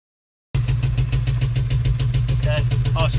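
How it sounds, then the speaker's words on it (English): Close by, a car engine with rod knock idles at a steady, rhythmic pulse after starting up abruptly, with its repeating beats running on evenly to the end. "Okay. Oh, she's already idling better."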